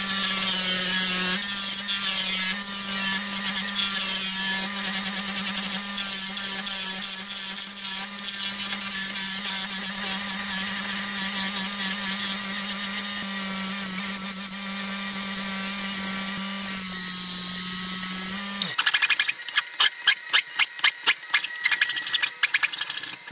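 A wood lathe turning a resin tenon on an off-center jewelry box, a steady whirring motor hum under a continuous scraping cut, then a burst of rapid rattling clicks near the end, with no talking.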